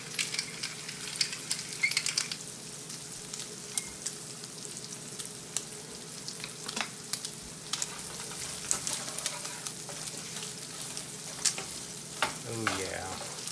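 Store-bought sausage fries in a cast iron pan on an electric stove, a steady close sizzle with crackling pops and occasional scraping stirs, and a short burst of clattering near the end.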